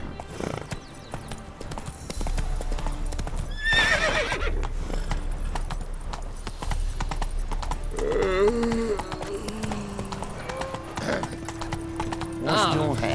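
Horse hooves clip-clop at a trot in The Witcher 3: Wild Hunt, close and continuous, with a whinny partway through and game voices and ambience mixed in.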